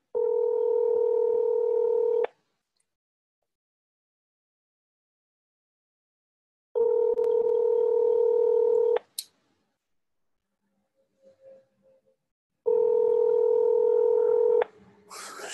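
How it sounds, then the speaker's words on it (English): A telephone ringback tone sounds on an outgoing call, three steady ring bursts of about two seconds each separated by long silent gaps, with a small click between the second and third. "So the phone is ringing."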